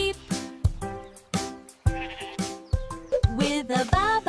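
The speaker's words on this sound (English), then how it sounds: "And on his farm he had a sheep." Sheep bleating in a farm animal children's song, a series of short close baas in quick succession, loud and alone with no talking.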